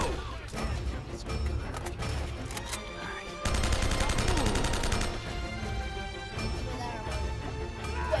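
Gunfire in Uncharted 4, rapid bursts of automatic shots and single cracks, with a dense sustained volley in the middle and scattered impacts around it.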